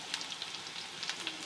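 Onion dropped into garlic already browning in hot oil in a home kitchen, giving a soft, continuous sizzle with small crackling pops, faint and steady.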